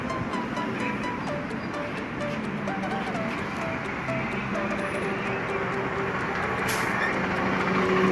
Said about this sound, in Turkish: Bak şu tam karşımda buraya doğru geliyor şu otobüs. İki katlı oluyor genelde bunun gibi.